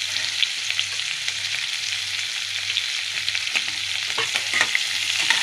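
Onions fry in a pan for a cauliflower and potato curry, giving a loud, close, continuous sizzle with stirring scrapes that grow busier near the end, and no speech.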